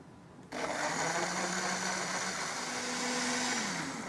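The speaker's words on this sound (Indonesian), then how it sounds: "Sekarang kita blender." Blender switches on after a brief quiet start and runs steadily, whirring loudly as it blends mangosteen peel with water, with a slight pitch dip near the end.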